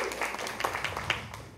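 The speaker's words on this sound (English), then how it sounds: "Clap it up for Ms. Ford once again." An audience at a community conversation event claps in a short, moderate burst of scattered hand claps in a room.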